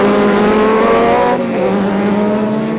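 Race cars roar around the Val Thorens ice circuit during a 1993 Trophée Andros race. A loud, continuous engine drone holds a high revving tone that drops in pitch partway through, with no talk over it.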